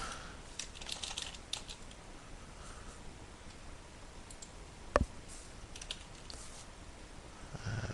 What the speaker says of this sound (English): I'd fold even if I wasn't typing a note.